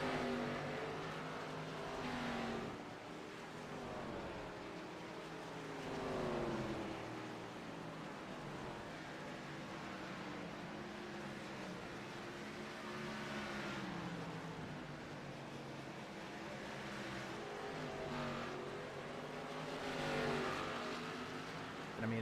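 Xfinity Series race cars in a racing video game drone on continuously, with engine tones rising and falling as cars rev and sweep past throughout the long stretch.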